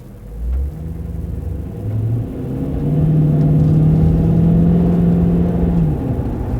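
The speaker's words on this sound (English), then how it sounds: "see if you can just hear a little bit of the V8 rumble off idle" A 2009 Dodge Challenger SRT8 V8 heard off idle from inside the car, a deep low rumble with a couple of short blips before a longer sustained rise, fairly loud with no talking.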